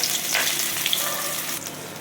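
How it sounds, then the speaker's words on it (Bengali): Cumin seeds, bay leaf, dried red chilli and finely chopped onion frying in hot oil for a Bengali fig dish, a steady close, loud sizzle with a few crackling pops throughout, no voices. "দেখো জিরে তেজপাতা শুকনো লঙ্কা ফোড়ন দিলাম, একটা বড় সাইজ গোটা পেঁয়াজ কুচিয়ে"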